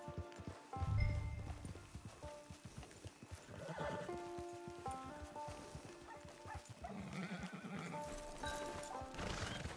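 A horse whinnies loudly while hooves clop in a steady rhythm, with other horse snorts and neighs following over an outdoor backdrop, in the video game Red Dead Redemption Online.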